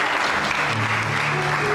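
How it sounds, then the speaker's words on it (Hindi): Studio audience applause on a Pakistani entertainment talk show, a steady, dense wash of clapping filling the whole stretch with faint tonal music or voices underneath. "अलीजा के लिए भी तालियां बजाइए"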